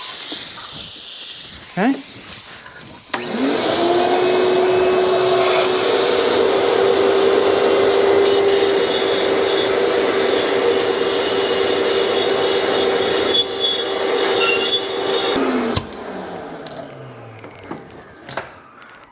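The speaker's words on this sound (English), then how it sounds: "Let's get the compressed air on." Compressed air hisses loudly and steadily for about thirteen seconds while walnut blasting the intake valves of a BMW N54 engine, then cuts off abruptly; a voice speaks briefly before the air starts.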